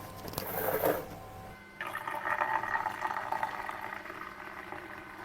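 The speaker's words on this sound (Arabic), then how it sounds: "ودلوقتي بقى يلا ننزل بالميه بتاعتنا" Warm water pours into a homemade laundry detergent mix in a jerrycan, a close, steady gushing and bubbling that runs for several seconds after a short knock at the start.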